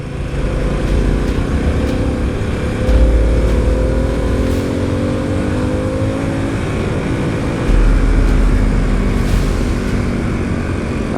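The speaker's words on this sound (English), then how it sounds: "That's a lovely sound off that engine." Harley-Davidson Pan America motorcycle engine and exhaust droning loudly and close, rising and falling in pitch with two deep throttle swells, wind rush over the top.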